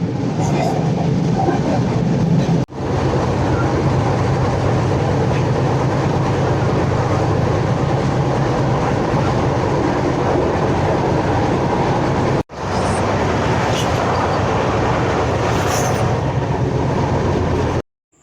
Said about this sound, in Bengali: বন্দে ভারত শতাব্দী এক্সপ্রেস একেবারে লাইভ কামিন তোমাদের জন্যে